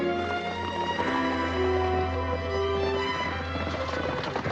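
Horses clip-clopping at a run with thieves riding off, hoofbeats busy and steady over dense film music and background commotion, with a brief neigh.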